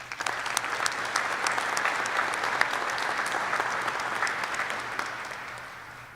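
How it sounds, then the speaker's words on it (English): A crowd applauds at a US Air Force class graduation ceremony, a dense, even patter of clapping that holds steady for several seconds before tapering slightly, with no voices over it. "So another round of applause."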